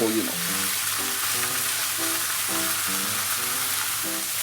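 Pork for char siu searing in a hot pan, a loud continuous sizzle and crackle of frying with no pauses, close up and alone.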